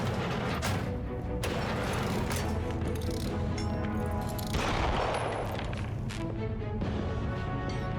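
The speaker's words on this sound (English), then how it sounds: "Hearing some gunshots up there" Bursts of gunfire in Cyberpunk 2077 from a firefight upstairs, with a dense volley of shots, crashes and booms, loud and continuous over a heavy game background.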